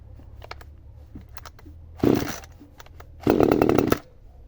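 A Vitals BKZ 2510s petrol chainsaw being started for the first time: pull-cord clicks and rattles, then two loud bursts of the engine catching and buzzing up close before dropping back.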